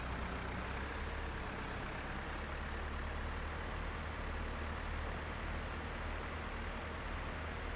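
A modern tractor engine idles in Farming Simulator 25, a steady, even low rumble with dense broadband noise that holds at a constant moderate level throughout, with no voices.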